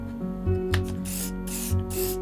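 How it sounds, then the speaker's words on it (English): Short spray bursts from a spray bottle misting around the edges of freshly glued wood veneer on a bowl, three or four quick hissing puffs close by over a low steady hum. "I give a little spray around the edges"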